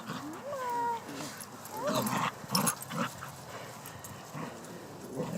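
A herding dog whimpers and yips in a few short, high-pitched bursts amid outdoor background noise, faint and at moderate distance, with hoof-like clopping from the herded animals.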